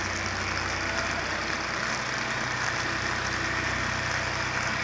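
A tractor engine idles steadily in a building setting, a low, continuous rumble with even pulsing and no revving, holding at a constant level throughout.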